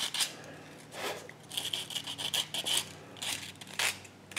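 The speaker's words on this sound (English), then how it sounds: "I'm going to sand that bridge just a little more." Close rasping strokes as the wire bridge of handmade mirrored sunglasses is sanded by hand, repeated short rubs at an uneven rhythm with no voices.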